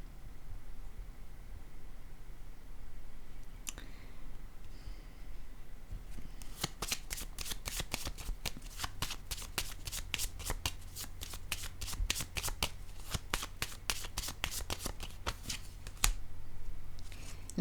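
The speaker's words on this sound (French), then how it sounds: "Je vais déposer une carte ici." Playing cards being shuffled and laid down during a tarot-style reading, a quiet stretch giving way to a rapid run of crisp riffling clicks that continue steadily for about ten seconds before a final card is set down, with no talk.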